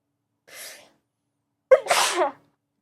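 A single close, forceful human sneeze, preceded by a soft breathy intake about a second earlier, with silence around it.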